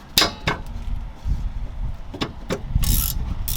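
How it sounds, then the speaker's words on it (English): Metallic clicks and ratcheting from a 12 mm wrench loosening a caliper bolt on rear brakes of a 2011–2017 Honda Odyssey, a few sharp close taps and scrapes over quiet shop noise. "Then you're going to grab your 12 mil. Okay, and you're going to loosen the top bolt."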